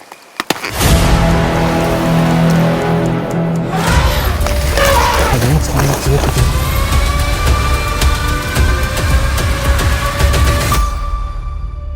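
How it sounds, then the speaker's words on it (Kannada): Heavy night rain pours down at a solo campsite in an elephant zone, a loud continuous downpour that starts abruptly after a short quiet opening, with a sharper shift in texture partway through. "ನೈಟ್ ನೋಡ್ರಿ, ಸಿಕ್ಕಾಬಟ್ಟೆ ಮಳೆ."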